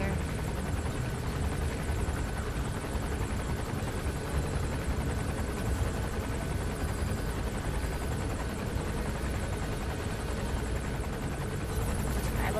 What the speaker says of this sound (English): All right, let's wait for the chopper to go over.